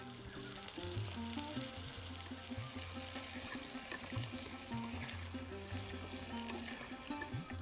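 Prawns sizzling steadily in a hot pan with turmeric, Kashmiri chilli powder and salt, a soft continuous frying hiss running throughout with no talking.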